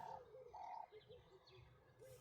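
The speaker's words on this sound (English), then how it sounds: "just listen to the birds" Small birds chirp and tweet in a soft, repeating pattern, fairly faint and distant, with a quiet outdoor background.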